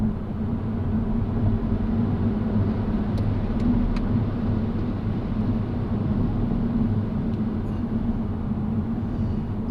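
A Mini Cooper SE electric car accelerates from 0 to 60 with traction control off in normal mode, producing a steady, low road-and-tyre rumble with a faint whine, with no voices.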